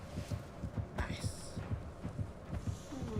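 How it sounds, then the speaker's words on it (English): Heartbeat sound effect in the video game Assassin's Creed Shadows: a steady, deep double-thump pulse repeating about three times a second over a low hum, with a soft voice briefly heard. "my heartbeat."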